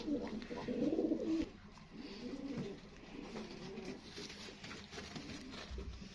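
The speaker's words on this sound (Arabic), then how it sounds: "ده حمام، ده زغلول متحضن كده" Soft low cooing of homing pigeons, repeated murmuring calls close by, with some rustling and a faint voice in the background.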